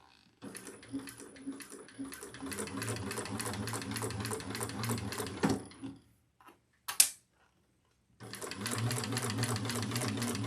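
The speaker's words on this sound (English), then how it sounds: "it's easier to sew it from the inside than from the out" A sewing machine stitching a Jasmine handbag runs in a fast, steady mechanical rattle, stops with a clunk, gives a sharp click during a short pause, then starts stitching again, close and clear.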